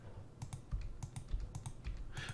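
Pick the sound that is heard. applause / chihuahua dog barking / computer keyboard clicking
computer keyboard clicking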